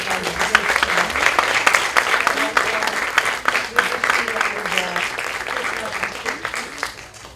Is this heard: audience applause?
yes